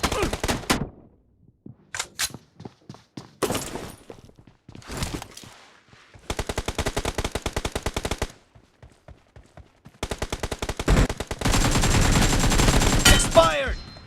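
Video game gunfire from a shotgun team deathmatch: single sharp blasts and footsteps, then rapid sustained bursts of automatic fire, loud and close, with a voice speaking briefly.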